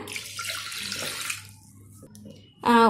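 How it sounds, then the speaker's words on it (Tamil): Water poured into a pressure cooker holding washed moong dal makes a splashing, rushing pour for about a second and a half, then quiets, with a voice starting at the very end. "இப்போ இதில் நான் 1 டம்ளர் தண்ணி ஆட் பண்ணுறேன்."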